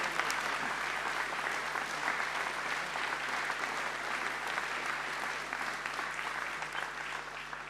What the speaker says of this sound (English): So we've got a big round of applause.